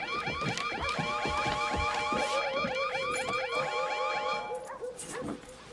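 A continuous emergency alarm blares loud and near, a rapid warbling siren cycling steadily for several seconds in an indoor room before it fades slightly at the end.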